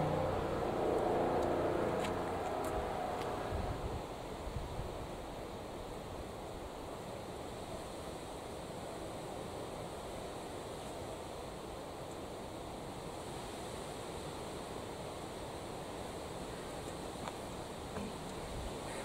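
Strong wind from Storm Ellen roars steadily through a garden as a broad, continuous rush of buffeting noise, heaviest in the opening seconds and then easing to a constant blustery hiss, with no voices.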